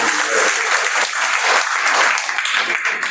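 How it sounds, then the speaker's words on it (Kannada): Audience applause at a village religious discourse ceremony: dense, loud, sustained clapping from a large crowd, close and steady throughout. "ಅವರಿಗೊಂದು ಚಪ್ಪಾಳೆ ತಟ್ಟಬೇಕು ಅಂತ ಹೇಳಿ"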